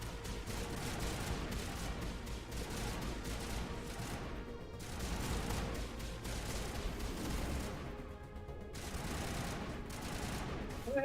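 Gunfire from the Mass Effect video game forms a dense, steady wash of shots and battle noise that runs the whole time, thinning briefly near the end before surging again.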